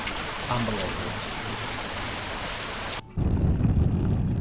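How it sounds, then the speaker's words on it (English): Heavy storm rain pours down hard and steady in Ashburton, New Zealand, heard from under cover at a cafe, a loud continuous wash that breaks off briefly and then returns even heavier. "the storm that had been chasing us all day finally hit just as we got into the cafe and under cover"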